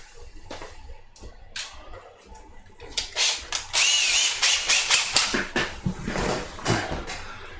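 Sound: hand drill drilling plastic

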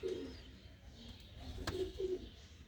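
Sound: female pigeon cooing

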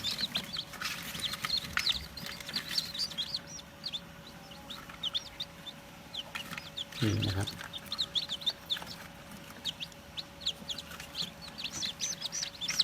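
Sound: baby chicks peeping, Thai gold and Leghorn chicks

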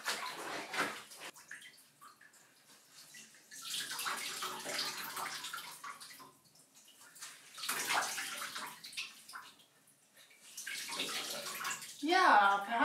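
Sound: washing clothes by hand in water

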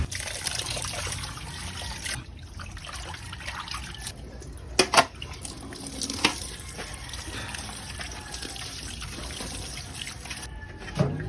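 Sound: water trickling while washing and squeezing kimchi vegetables

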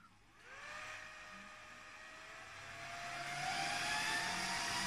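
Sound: Huawei 6730 100G network switch fans roaring at power-on

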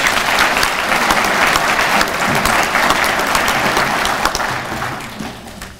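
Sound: audience applause for award recipients

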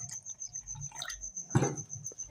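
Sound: water being poured into a pan for besan kadhi

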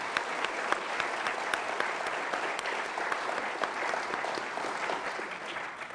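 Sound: audience applause for panel

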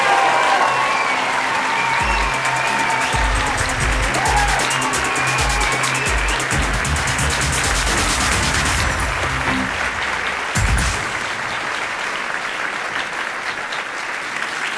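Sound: audience applause at a science slam

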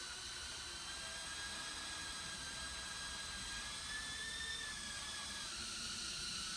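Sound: quadcopter drone hovering on a pocket of air

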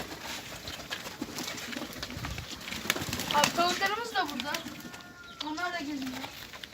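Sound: pigeons cooing

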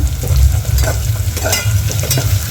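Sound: coriander sizzling in hot tempering

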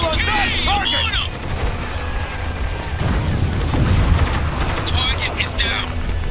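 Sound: rifle gunfire in the video game Spec Ops: The Line

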